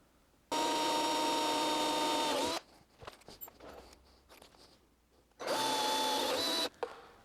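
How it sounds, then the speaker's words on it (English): A power drill bores a hole while a data logger is installed on a junior dragster, in two loud, steady bursts of about two seconds and one and a half seconds, with quieter handling noise between them. "I'm gonna go ahead and drill that one out."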